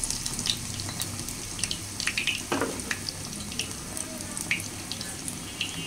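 Battered eggplant fritters frying in oil in an old wok, a soft steady sizzle with scattered crackles and pops and the odd scrape, fairly quiet and without talk.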